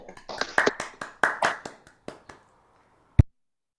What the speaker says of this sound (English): let's briefly unmute ourselves and applaud